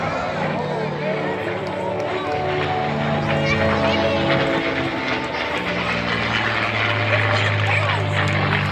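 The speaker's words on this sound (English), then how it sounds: "Inbound from the right again, Mr. David Reed with the Erickson Collections P-51D Mustang." A P-51D Mustang propeller fighter flies past at an air show, its steady engine drone filling the air under a loudspeaker voice and crowd noise.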